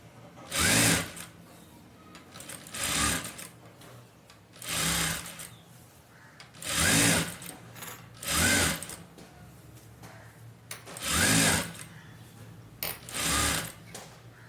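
A sewing machine stitching fabric to join hand pieces runs in short, loud bursts of rapid mechanical whirring, about eight runs separated by brief pauses, close up with no talking.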